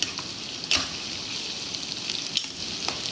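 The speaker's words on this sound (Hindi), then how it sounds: "ये देखिए हमारा चिकन फ्राई हो रहा है।" Chicken sizzles steadily in hot oil in a pan for fried rice, a constant close crackling hiss with a few brief stirring clatters.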